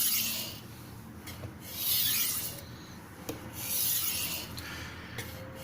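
Blade sharpening passes on a medium-grit crystal stone, drawn at a slightly raised angle to form a micro bevel. Steel rasps against stone in several long, loud, rhythmic strokes, heard alone.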